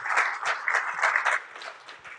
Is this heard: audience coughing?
no